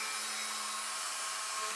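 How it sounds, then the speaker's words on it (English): A Dremel rotary tool fitted with a fine pointed needle bit whines steadily as it carves into lino, a constant high-pitched buzz held close and loud for the whole short stretch with no talking. "I'm just literally going to clamber on my plan chest to turn the Dremel on"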